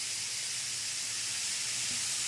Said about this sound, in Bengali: বেশি ভাজবো না, হালকা ভাজবো, এটা একটু ক্রাঞ্চি ক্রাঞ্চি থাকবে।